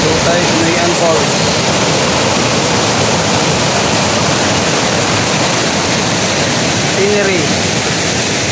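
Tinuy-an Falls in Bislig, Surigao del Sur roars as a constant, loud wash of falling water, a dense unbroken rush that fills the scene.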